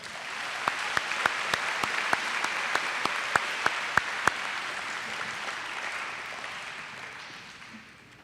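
Audience applause at a high school upper school awards ceremony, a steady wash of clapping from a sizable crowd with several sharp nearby claps standing out early, slowly thinning out toward the end.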